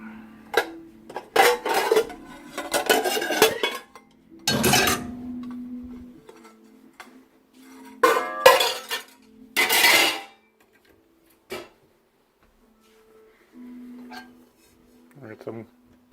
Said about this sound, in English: I'm gonna get some pots.